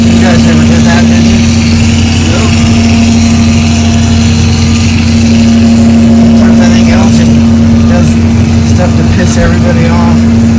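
An engine on a hydroseeding job idles with a loud, steady, deep hum and a constant drone throughout, close by, with people talking faintly under it.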